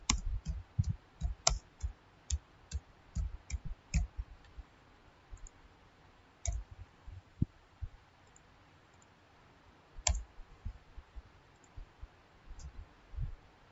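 Computer mouse clicks at a desktop during structural modelling software work, sharp quiet clicks in irregular bursts, some rapid doubles, with pauses between, close and alone.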